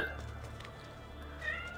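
A cat meows in the video game Assassin's Creed II, with short, clear meows near the start and again near the end over a steady low background hum.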